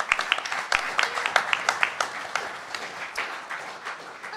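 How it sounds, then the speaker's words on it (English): Audience at a food and farming conference claps, starting with distinct individual claps that blend into moderate applause and then thin out. "Round of applause, please."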